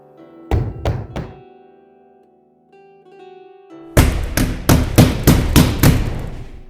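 Rhythmic wooden thuds of threshing with a flail at a village celebration in Mashivka, a few blows early then a steady run of loud, close strikes, with a quiet low hum between them.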